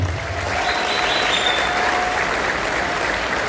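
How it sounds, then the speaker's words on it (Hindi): Sustained applause from an event audience in Surat, a dense, even wash of many hands clapping at once, steady and fairly loud throughout. "वो सभी के लिए सम्मानजनक ताली।"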